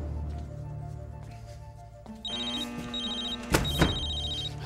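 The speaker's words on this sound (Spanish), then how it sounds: "le voy a quitar el vibrador al teléfono este" A telephone rings with repeated electronic trills starting partway through, preceded by a quieter tonal background, followed by a couple of thumps near the end, with no talk.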